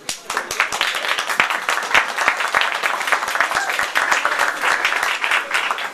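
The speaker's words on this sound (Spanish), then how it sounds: "Les pediría que le diéramos un aplauso." An audience at a book presentation panel applauds steadily, a dense patter of many hands clapping at once, sustained and fairly loud throughout.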